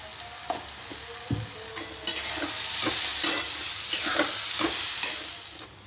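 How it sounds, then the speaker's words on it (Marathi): Spices and a pinch of turmeric frying in hot oil in a pan, a hissing sizzle that swells louder midway, with intermittent spoon taps and scrapes as they are stirred, close up and without speech. "हे पण छान परतू द्यायची तेलामध्ये."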